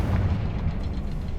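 A Confringo fire spell explodes in the Hogwarts Legacy video game, a deep, rumbling blast that sustains loudly for its short length with no talking.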